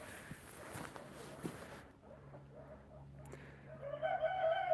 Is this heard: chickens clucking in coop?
yes